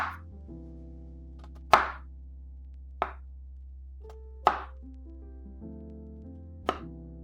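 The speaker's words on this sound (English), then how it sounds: "we're going to radially cut the onion up and around as close to that root portion as possible" Knife chopping through an onion on a cutting board, a few distinct sharp thunks spaced about a second apart over a steady low background hum.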